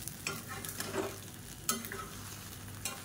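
Cooked rice is stirred in a pan after the gas is turned off, giving soft scraping and shuffling with a few sharper spatula clicks against the metal over a low steady hiss.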